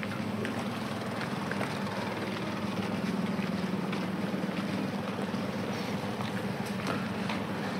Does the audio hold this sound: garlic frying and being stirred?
no